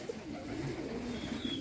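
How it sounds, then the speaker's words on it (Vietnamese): Tiger chicken pigeons coo softly in a pigeon-raising loft, a low continuous murmur of overlapping coos under a steady hiss of background noise, with no talk. "Đó, bồ câu gà Tiger nè."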